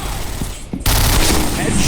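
Gunfire in a shooting video game cracks out in fast bursts, loud and close, with a brief gap before a heavy sustained volley, and game sounds mixed in.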